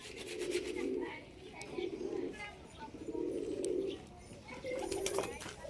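Pet pigeons coo in soft, repeated low rolling phrases at a steady rhythm, fairly close. Light rustling and faint high chirps sit behind the cooing.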